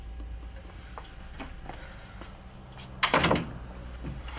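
A door is pushed shut in a house, a few light knocks and creaks, then a firm thud with a short rattle, fairly close, with no talking.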